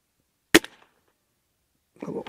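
A Gamo Swarm Magnum Pro .177 air rifle fires once, a single sharp crack with a short ringing tail, followed after a pause by someone speaking.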